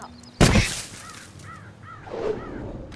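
At a fountain, a sharp loud crack bursts out, followed by several harsh bird caws spaced across the next seconds, fairly close, with a brief noisy swell near the end.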